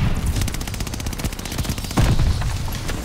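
Rapid automatic gunfire from a gun in Call of Duty Vanguard, a fast rattling burst of close, loud shots continuing for about three seconds with a brief pause and heavier impact near the end.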